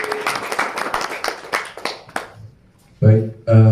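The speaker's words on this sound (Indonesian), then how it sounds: "Ada sulap lainnya. Tepuk tangan." An audience claps after a magic trick, a burst of scattered hand claps that thins out and fades within about two seconds before a voice speaks over a brief quiet gap.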